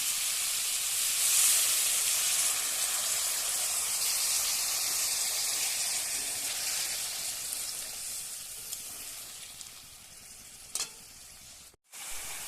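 A chickpea chicken curry sizzles loudly in a pan after water is added, giving a steady dense hiss and fry crackle throughout that slowly eases, with a brief dip near the end. Nobody speaks.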